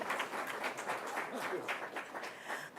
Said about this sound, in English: So once again you can clap.